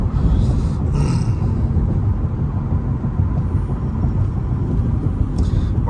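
A 2009 Kia Rondo EX V6 drives along a city road, steady low interior rumble of engine and road noise throughout, with faint brief clicks on top and no talking.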